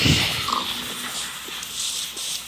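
A dog in the Minecraft video game gives a few short, clipped yelps over a constant hiss of game noise, with nobody talking.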